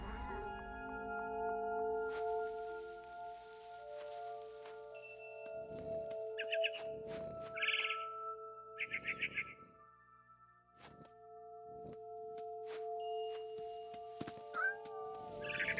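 A cat from the game What Remains of Edith Finch gives several short meows at intervals over a steady low background hum, fairly close and moderately loud.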